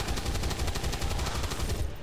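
Automatic gunfire from XCOM 2 rattles in a rapid, loud burst of regular shots that fills most of the moment, then cuts off sharply into quiet.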